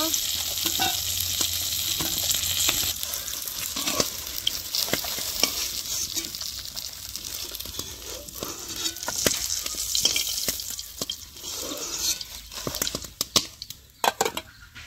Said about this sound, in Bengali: এই কই মাছের মধ্যে অনেক চর্বি হয়েছে আর কিরকম তেল ছাড়ছে।